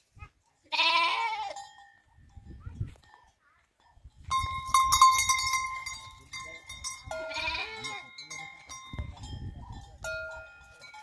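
Sheep on a farm, ewes with lambs and a ram, let out a couple of loud bleats. Someone talks between the calls, and a bell-like clank rings nearby.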